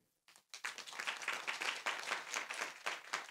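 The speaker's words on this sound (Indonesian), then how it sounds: "Yang setuju tepuk tangan bagi dia." A church congregation at a sermon breaks into applause after a short silent gap. The clapping is moderately dense and rhythmic, steady for about three seconds, and sounds somewhat distant and soft.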